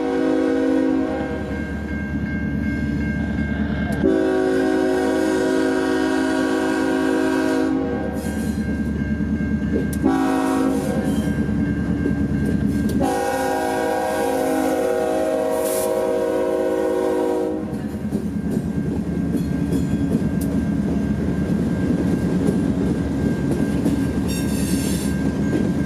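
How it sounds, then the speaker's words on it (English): A long freight train hauled by two GE six-axle diesel locomotives rumbles onto a bridge near New Orleans, loud engines droning and horn-like tonal blasts, steady and close throughout. "With 2 GE 6-axle motors lugging this long train onto the bridge"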